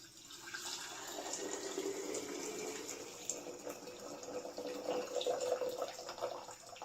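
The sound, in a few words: pouring liquid into jar while canning potatoes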